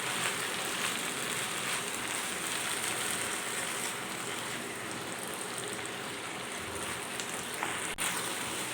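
Sour tok pata leaves frying in a pan, a steady, soft crackle and sizzle that holds evenly throughout with no talk over it.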